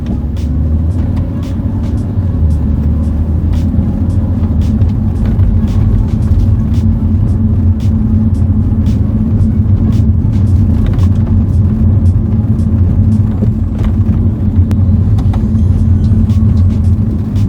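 BMW F30 335i with ZF 8HP eight-speed automatic driven in sport mode, heard from the cabin: a steady low engine drone and road rumble, with faint ticking clicks scattered throughout.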